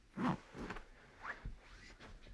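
The zipper on a couch cushion cover is pulled in short, close scratchy bursts while a down cushion insert is worked inside it, each pull rising briefly above a quiet room.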